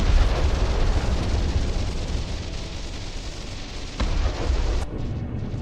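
Missiles explode in a video game, a rolling rumble of booms and bursts with a sharp blast near the end and no voices.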